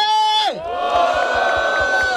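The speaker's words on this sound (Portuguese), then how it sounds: "Barulho para as rimas de Mike" Crowd cheering at a rap battle in Barueri, São Paulo, a loud massed roar of shouts and whoops that surges in and keeps going with rhythmic thumps underneath.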